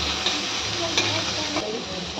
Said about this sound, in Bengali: আর আমি এদিকে বসিয়ে দিয়েছি উচ্ছে ভাজা, গরমে উচ্ছে ভাজা।